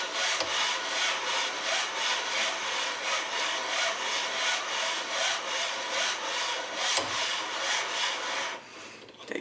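A lapping bar worked back and forth inside steel rifle scope rings to remove the anodizing, giving a continuous rhythmic scraping rasp, loud and close, with regular strokes until it stops near the end.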